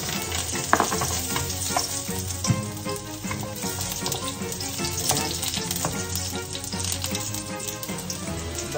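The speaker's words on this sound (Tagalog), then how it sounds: "Ngayon, lagay na natin yung ating bawang." Garlic sizzles loudly in hot oil in a pan, a dense, continuous crackle broken by occasional stirring clinks and scrapes, cooked as the start of squash in coconut milk with crab.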